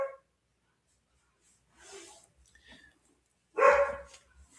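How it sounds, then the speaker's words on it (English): A dog barks outside in a few short bursts, one louder and nearer than the rest, separated by quiet gaps. "one of my dogs is spazzing out there"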